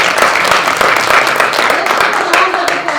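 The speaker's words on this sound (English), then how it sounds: "Let's round of applause for all of the candidates and their willingness to serve the neighborhood" Dense, steady applause from a crowd at a neighborhood association general meeting, honoring the candidates, loud and sustained throughout with a few sharper claps standing out.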